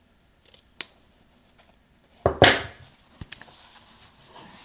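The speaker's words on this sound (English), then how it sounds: "We're going to trim away the seam allowance here of this facing area so that we can flip it out and it looks nice and sharp" Scissors trimming the seam allowance of a fabric facing, a few sharp separate snips and crunchy cuts, near and crisp, with short quiet gaps between them and no talking.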